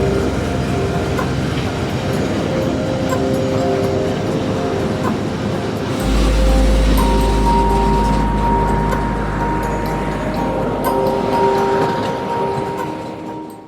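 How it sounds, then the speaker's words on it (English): A freight train rumbles steadily with rail clatter and a low engine drone, swelling louder midway as it departs, with a long tonal hum throughout. "It wouldn't even be 2 minutes after this train stopped before they began departing once again."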